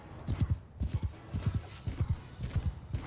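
Horse hooves clip-clopping in steady rhythmic pairs across open ground in the medieval battle game Bannerlord, close and clear with no talk over them.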